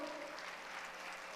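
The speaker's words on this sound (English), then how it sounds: "All of our talented artists and performers, give them a round of applause." Audience in a concert hall applauding artists and performers at a Martin Luther King Jr. Day tribute celebration, a brief, faint, even wash of distant clapping from many hands.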